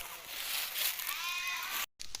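A flock of sheep bleats continuously at moderate distance outdoors, with overlapping calls and a short break near the end.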